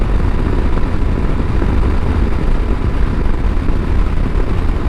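A 2023 Husqvarna Norden 901 motorcycle on the move, its engine and wind noise forming a steady, loud, broadband rumble that runs unbroken and close throughout, with no talking.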